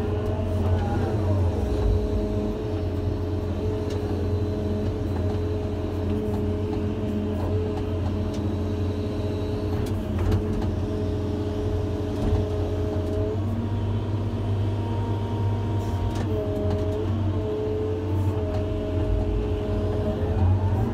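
Skid loader engine on a basement dig site, a steady low diesel rumble running throughout with a slight pitch shift partway through and faint clanks on top.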